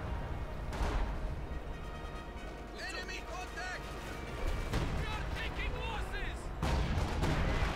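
Artillery fire in a Company of Heroes 2 match, with booming impacts and explosions rising above continuous game noise while a caster talks over it.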